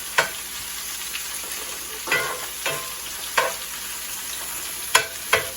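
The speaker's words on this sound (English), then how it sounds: "we're just going to start getting a little color on those onions" Onions fry in a skillet with a steady, quiet sizzle, broken by several distinct scrapes and clacks of stirring, the occasional one sharper.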